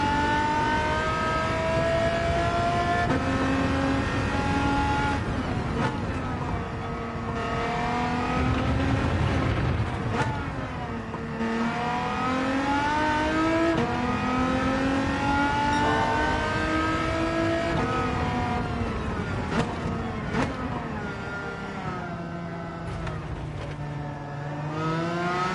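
Amuse 380RS engine in Gran Turismo 7 on a racing circuit, revving up and down through repeated gear changes, loud and close, with sweeping pitch and no talk over it.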